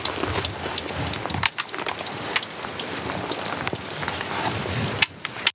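Rain drumming steadily on a tent canopy outdoors, a dense close patter with a few louder drips and knocks standing out.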